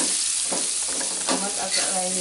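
Tomatoes stirred and fried in a browned chili spice paste in a pan sizzle steadily and loudly up close, with scraping stir strokes and someone speaking over it.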